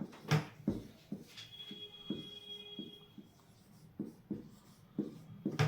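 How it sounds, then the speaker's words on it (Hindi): Handwriting during a Hindi music lesson on musical notes, with pen or chalk strokes scratching in short separate bursts, close and fairly faint in a quiet room. "चलिए लिखते हैं।"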